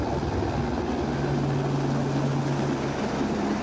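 Steady, loud helicopter drone with a sustained low hum, carrying people on the flight to Kedarnath; constant engine and rotor noise fills the cabin with no talk.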